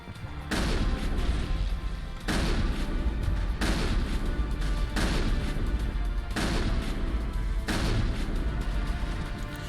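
Mass Effect combat with shotgun fire and explosions, five heavy booming blasts at roughly regular intervals over dense, continuous battle noise.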